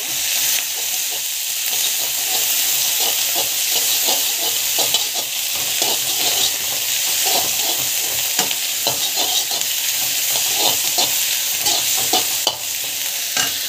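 Cumin, chilli, garlic, onion and curry leaves sauté in a pan with a loud, close, continuous sizzle and crackle, stirred steadily with frequent scraping and popping, without voices.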